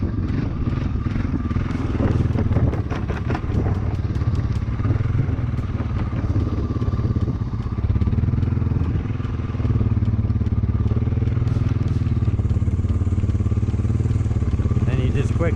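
A Honda 300 4x4 ATV engine drones loud and steady while riding over rocks, with occasional clattering knocks and revving shifts throughout.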